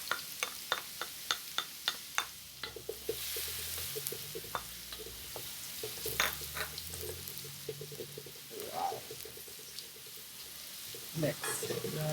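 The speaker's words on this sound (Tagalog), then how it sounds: "Mix garlic." Garlic frying in a pan for seafood fried noodles makes a soft sizzle broken by a quick run of crisp ticks early on, then scraping stirs and occasional clinks as a spatula works through it.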